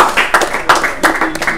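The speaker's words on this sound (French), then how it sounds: "si on peut l'applaudir" Short burst of audience clapping at a French-speaking church gathering, a few rhythmic claps close by, fairly loud and brief.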